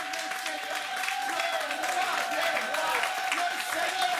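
A church congregation applauding and cheering in praise, a steady wash of clapping and voices filling the room throughout, with a sustained tone ringing beneath it.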